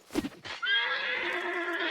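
A horse in the video game Hunt: Showdown gives a few short snorts, then a loud, drawn-out whinny that wavers on for over a second.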